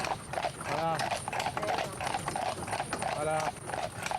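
Horses' hooves clip-clopping on hard ground in a rhythmic series of sharp knocks, with a horse neighing briefly twice, under someone speaking encouragement throughout.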